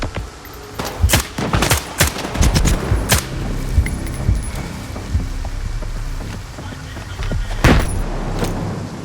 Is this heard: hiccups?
no